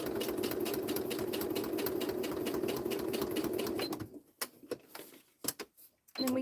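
A sewing machine runs steadily while stitching the top of a fabric 3D suitcase, with a fast whirring hum that stops after about four seconds. A few soft clicks and handling sounds follow.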